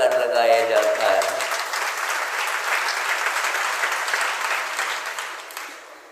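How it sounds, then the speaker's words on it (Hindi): Applause breaks out from an audience during a religious sermon, starting loud under a brief spoken voice, then settling into steady clapping that gradually fades toward the end. "तालियां तो हमने बहुत सुन ली"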